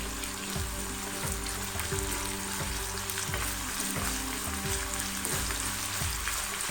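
Ginger, garlic and curry leaves sizzle in hot oil in a pan for a Kerala-style papaya pickle, a steady dense crackling fry with faint clinks of stirring, no voice over it.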